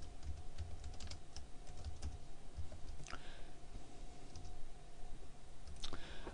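Computer keyboard typing of a title and description in a presentation app: steady light key clicks over a constant background hiss, close and fairly faint, with no talk.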